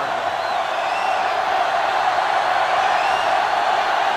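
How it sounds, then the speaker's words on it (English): A stadium crowd roars in the NCAA 2005 football video game during an Ohio State vs Michigan matchup, a loud, continuous wall of cheering with no break and faint whoops rising above it. "this crowd is going absolutely crazy"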